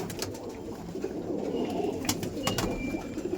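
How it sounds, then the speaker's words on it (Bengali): A male racing pigeon coos softly in a loft, the low murmuring calls running continuously amid faint rustles and brief sharp clicks. "রেসিং পায়রা দেখো।"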